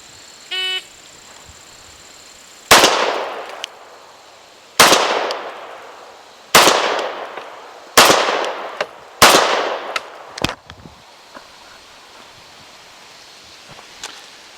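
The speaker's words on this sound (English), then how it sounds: "5 shots to the body of the target from a distance of 25 yards" A CZ P01 pistol fires five sharp, loud shots in fairly even succession at an outdoor range. One faint beep comes before the shots, and a few smaller clicks and rattles follow.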